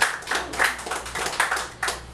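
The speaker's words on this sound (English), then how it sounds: "Good, I got my first applause." A small audience claps after a talk on the Montessori school system, a brief scattered round of handclaps, fairly close and without voices.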